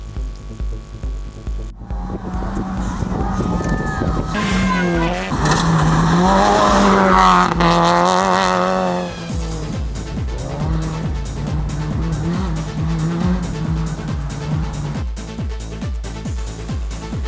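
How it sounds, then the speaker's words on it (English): Rally car at full throttle through a corner on a Tanzanian gravel stage, engine note rising and falling in pitch as it revs hard, loud and near, with tire skidding and a fading pass, no speech. "full throttle and a full attack, going full fly in this off-camera corner"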